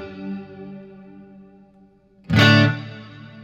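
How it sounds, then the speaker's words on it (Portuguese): An electric guitar sustains a note through a King Pedals Genesis modulated reverb, the tone slowly decaying before a loud new strum blooms into a wide shimmering wash. "Já é uma reverberação bem mais modulada."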